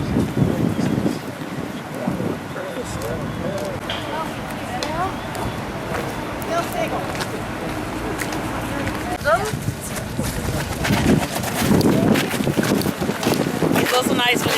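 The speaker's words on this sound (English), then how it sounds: "It's also nice when it's windy too." Wind gusting through a city park and square in Bergen, a rough steady rumble buffeting the microphone throughout while someone talks over it.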